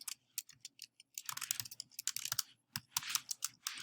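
A computer keyboard is typed on in quick irregular bursts of crisp key clicks, with a short pause near the start, close and fairly quiet in a still room.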